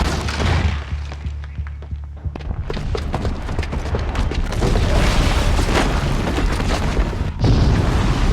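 A bomb's booby trap detonates in Horizon Zero Dawn, setting off a sustained, loud roar of explosion and rumbling debris that lasts the whole stretch, with heavy thuds and crackling bursts throughout and no talk.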